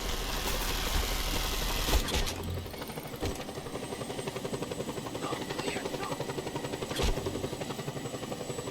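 A video game helicopter's rotor chops steadily with a rhythmic thrum and engine whine, fairly loud and constant, with a couple of sharp impacts mixed in.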